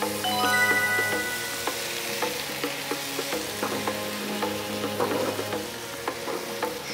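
Shredded cabbage and egg pancake frying in a pan, a steady close crackling sizzle that carries on throughout with light scattered pops and no talk.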